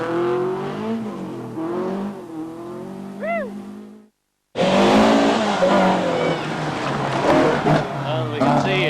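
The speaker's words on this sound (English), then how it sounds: "And it is, in fact, Bertie Law in the Chevette." A Chevette rally car runs a stage of the 1984 Stonethrowers Rally near Clonmel, Co Tipperary, its engine noise rising and falling under continuous commentary, with a brief drop to near silence midway.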